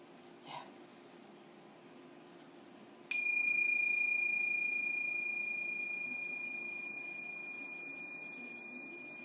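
A meditation bell is struck once during a mindfulness session, giving a clear ringing tone that sustains and slowly fades over several seconds in a quiet room.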